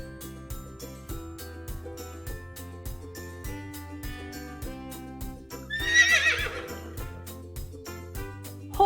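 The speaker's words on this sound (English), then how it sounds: "Horse, horse." Horse neighing in a children's animal-names song, a single shrill whinny rising near the end over a looping musical backing of bouncy beats and tones.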